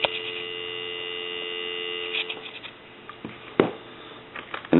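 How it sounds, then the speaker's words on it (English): A steady dial tone hums on the line of a Kellogg crank wooden wall telephone converted for modern service, continuous for about two seconds before handling clicks and knocks take over. "move the line cord away from the analyzer into a regular line. Give you some dial tone."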